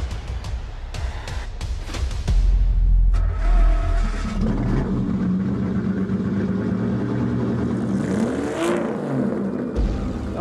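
A 2006 Porsche 911 Carrera (997) engine runs steadily at close range, with a deep low rumble that swells around the third and fourth seconds before settling into a smooth, even idle with some faint mechanical whine.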